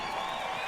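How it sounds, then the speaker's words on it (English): Brief, dense applause from a pow wow audience after a grand entry, a steady wash of many hands clapping at moderate volume, with no talk over it. "how about a round of applause one more time for this beautiful grand entry?"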